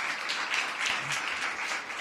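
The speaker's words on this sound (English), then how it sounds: "Let's give them a round of applause." An audience at a downtown day services center unveiling applauds steadily, with dense clapping of moderate loudness throughout.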